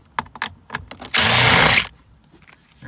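Power tool spinning out a speedometer cluster bolt on a 2016 Chevrolet Camaro, one loud steady burst of under a second after a few light clicks and handling knocks, no talk.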